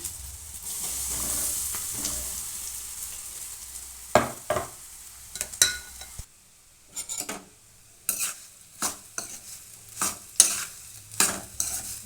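A spoon scrapes and stirs jowar roti upma in a pan with irregular strokes, over a faint sizzle of frying; no one speaks.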